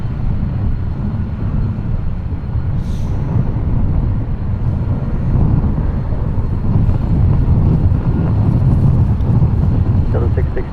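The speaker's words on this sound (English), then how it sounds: "not too far out now. Lufthansa Retro 747-8I." A Lufthansa Boeing 747-8I in retro livery approaches San Francisco International Airport as a continuous low rumble mixed with wind noise. Faint voices sit in the background.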